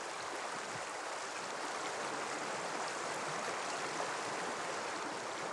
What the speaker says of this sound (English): the first thing I hear is the beautiful sound of this river